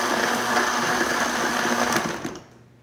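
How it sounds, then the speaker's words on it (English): A blender whirs steadily while blending a watermelon slushy, a loud continuous motor drone that cuts off near the end, with no talking. "Okay, so now we're about to blend our watermelon slushy."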